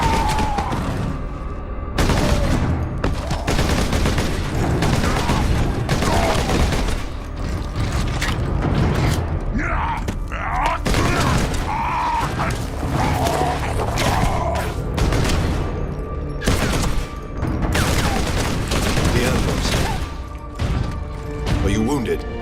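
A Psychic Scourge weapon firing in a Warhammer 40,000 sci-fi battle scene, a long, dense roar of booms, crashes and grinding mechanical noise with scattered bursts, loud and sustained, with voices speaking over parts of it.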